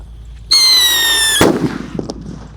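A firecracker set in the ground has a fuse that whistles shrilly for about a second, then a single loud bang bursts out and trails off into scattered crackles.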